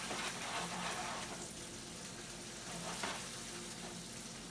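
Fresh-made maccheroncini pasta sizzling in a pan while being prepared for maccheroncini alla Norma: a constant, soft frying hiss with faint bubbling and stirring, steady throughout and without talk.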